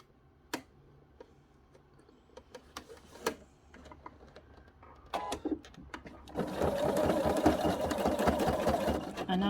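Sewing machine quilting a fabric peg bag, starting with scattered clicks and taps before breaking into a steady, close mechanical whirr of stitching that builds and continues to the end.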